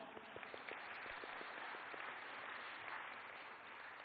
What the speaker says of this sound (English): Can we have a huge applause for that?